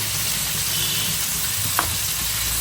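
Blended ginger, garlic and cardamom paste fries in a pan with browned onions, giving a steady, close sizzle and hiss broken by one brief clink.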